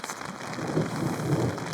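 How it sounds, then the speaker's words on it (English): Hail falling in the Colorado mountains near Ptarmigan Lake, a dense, steady patter of countless small impacts close by, heard alone. "Is it normal for it to hail twice in one day?"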